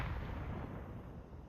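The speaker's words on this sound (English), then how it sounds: "As the nade does some decent damage onto LCM." A grenade blast in Counter-Strike during a professional esports match, heard as a loud, sustained low rumbling burst that fills the whole moment with no talk over it.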